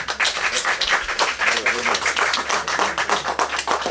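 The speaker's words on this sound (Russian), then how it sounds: "Аплодисменты." An audience at a song festival claps for a laureate, a dense run of rapid, fairly close handclaps continuing steadily throughout.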